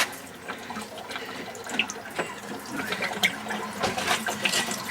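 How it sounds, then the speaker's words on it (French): Water draining from a home water heater through an opened valve during winterizing, a close continuous trickling and splashing with small irregular drips and gurgles. "le chauffe-eau est en train de se vider"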